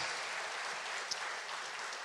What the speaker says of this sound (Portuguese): Um aplauso para o Senhor Jesus